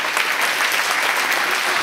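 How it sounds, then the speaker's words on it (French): An audience at a judo club's season-end gathering and general assembly applauds a newly promoted black belt, with dense, even clapping sustained loudly for a couple of seconds and no talk over it. "donc vous pouvez l'applaudir aussi bien fort"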